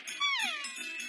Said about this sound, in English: You mean the cat?